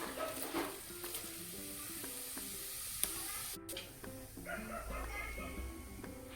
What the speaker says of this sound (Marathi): तेलामध्ये मोहरी आणि जिरे चांगले तडतडू दिले